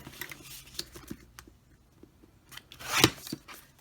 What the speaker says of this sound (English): And then I'm going to trim that down quick.